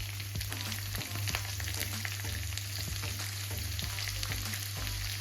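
Onions frying in a hot pan with vegetables already browning, a steady close sizzle with occasional stirring clicks and a low constant hum underneath, no voices.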